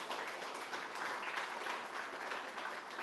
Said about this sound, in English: Can we just give them a round of applause for hosting them?